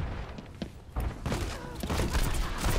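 Automated turrets fire in Overwatch, a run of quick sharp shots and thuds bursting irregularly across the moment, moderately close amid game noise.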